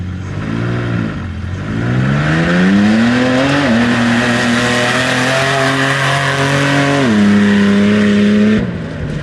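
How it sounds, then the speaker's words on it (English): A 6-cylinder truck's loud engine revs steadily and climbs in pitch on a mud bog run, holding high through a hard run before easing off at the end; no talking. "All right, first run ever on the 6-cylinder truck."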